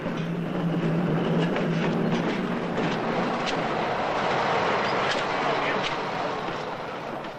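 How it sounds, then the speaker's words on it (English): A narrow-gauge Ziller railway train in Austria runs steadily along its 2-foot private track, hauling freight wagons, with a continuous close rumble and rattle while someone narrates over it. "Freight is transferred, wagons and all, from Austrian state railways onto its 2-foot private track."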